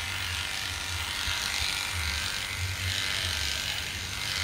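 Electric hair clippers fitted with a number 3 guard trim hair behind the ears, a steady close buzz with faint low hum running continuously throughout.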